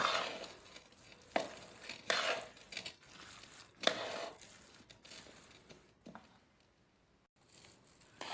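Carrot halwa for carrot barfi being stirred in a pan with cashews, almonds and pistachios added, giving repeated scraping, stirring strokes with soft sizzling at close range, no talk.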